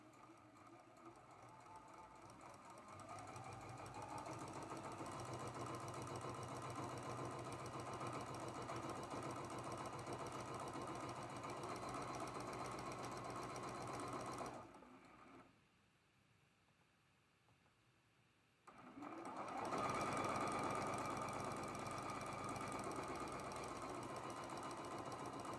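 A sewing machine stitches quilt block seams in long continuous runs, a steady mechanical whir that stops for a few seconds partway before starting again, close and alone.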